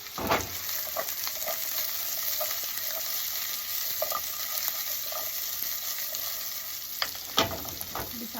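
String beans and pork sizzle steadily in a hot pan for Filipino adobo, a continuous close frying hiss broken by a few sharper crackles and stirring scrapes, with no talking.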